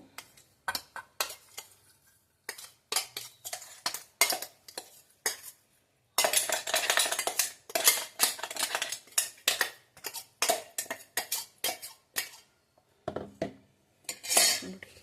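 A spoon scrapes and clinks against a bowl while ground poha and peanut powder are mixed for laddus, bursts of dry rattling scrapes separated by short pauses, close and loud, with no voices.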